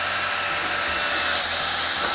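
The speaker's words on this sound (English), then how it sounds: "we are definitely gonna be using the paint mixer today because I don't feel like doing this manually with a mash paddle" A paint mixer on a drill whirs steadily as it stirs grain mash for a black IPA, producing a constant loud high-pitched motor whine with a low churning undertone throughout.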